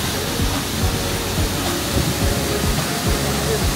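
A 35-metre waterfall in the Situ Gunung forest roars as a loud, steady broadband rush of falling water close by, with faint rumbling underneath and no talk.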